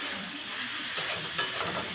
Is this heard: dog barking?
no